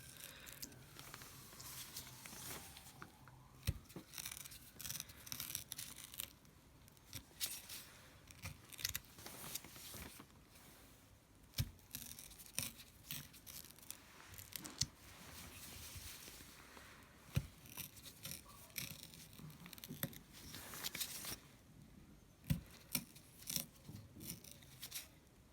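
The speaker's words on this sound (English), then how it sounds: "It's quite easy with this U-shape tool. Just swirl it around." A U-shaped gouge carves into a juicy potato for printmaking, giving quiet, close scraping and crisp little cutting scratches in irregular bursts, with short pauses between strokes.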